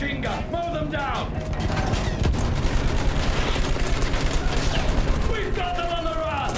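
Sustained machine gun fire in the Battlefield 1 campaign prologue, a dense, rapid, loud burst running through the middle of the clip, with shouted voices before and after it and explosive crashes mixed in.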